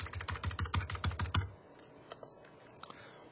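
Rapid typing on computer keyboard keys, a brisk run of close, crisp clicks for about a second and a half, then the clatter stops, leaving only faint room sound.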